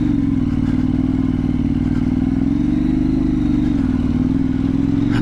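A KTM 890 Duke R motorcycle climbing a Cumbrian mountain pass with the clutch slipping, its engine droning steadily and loudly throughout with slight rises and dips in pitch, close to the rider and with no talking.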